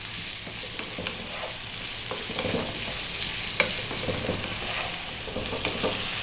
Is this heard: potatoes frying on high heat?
yes